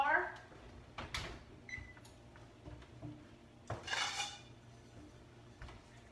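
A cast iron skillet of baked biscuits is handled on the stove, with a few sharp metallic clanks and scrapes between quieter moments while a person talks.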